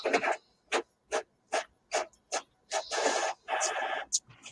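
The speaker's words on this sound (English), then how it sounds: "It's just a printer." A printer working in a room, about a dozen short mechanical whirring strokes in an uneven rhythm, close and clear, with a longer grinding pass near the end.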